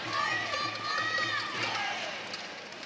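Loud Indonesian supporters at a Dubai Superseries Finals 2016 badminton quarterfinal send up a sustained wash of crowd noise with high, rising shouts and cheers throughout, heard from a distance in a large arena.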